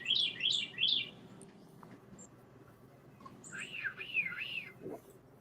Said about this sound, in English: Can you guess what type of bird makes that sound?